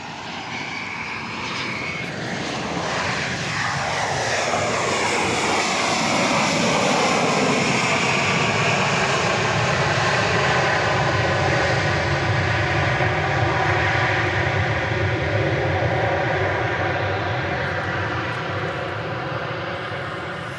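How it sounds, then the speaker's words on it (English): A Boeing 737-700 jet airliner lands on runway 31 left at Dallas Love Field after dark, its loud, steady engine roar building and sustained for about twenty seconds with a sweeping whine, no voices. "Flight 173 from Midway Airport in Chicago, 737-700"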